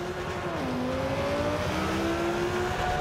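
A Lamborghini engine accelerating in the Forza 5 racing game on the Long Beach circuit: a loud, continuous roar that climbs in pitch, drops at a gear shift, then climbs again.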